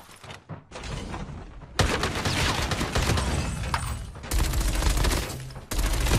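Rapid, sustained CX9 submachine gun bursts in Call of Duty Mobile, loud and close, firing in several long strings with brief gaps between volleys and no talk over them.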